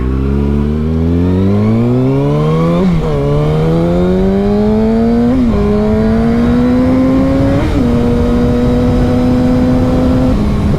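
A motorbike engine revs up through several gears, rising pitch then dropping at each shift, loud and close with steady wind noise.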